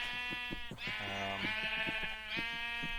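Sheep in the Minecraft game bleat repeatedly in long, wavering calls, close and clear over faint rhythmic background clicks, with no talking.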